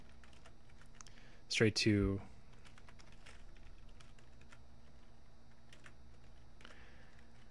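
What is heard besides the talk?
typing a Linux terminal command on a computer keyboard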